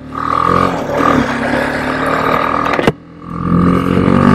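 A BMW G 310 GS motorcycle pulls away, its engine droning and revving steadily up close, dipping briefly near the end before picking back up.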